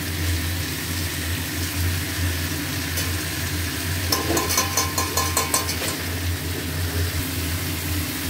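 Paneer for broccoli paneer cooks in ghee in a pan, with a steady sizzle and a low hum underneath, and a short run of rapid clicking stirring strokes midway.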